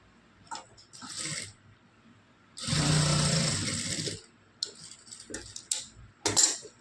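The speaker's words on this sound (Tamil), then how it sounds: "இப்போ பாருங்கள், இப்போ இது ஸ்டிச் பண்ணுறேன்." A sewing machine stitches a blouse in short bursts, with one longer steady whirring run in the middle and brief clicks and handling noises between the runs.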